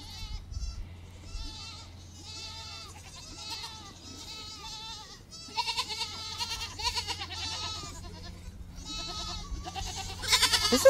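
Several goats bleat repeatedly, some close and loud, others further off, in overlapping calls with a steady low hum underneath.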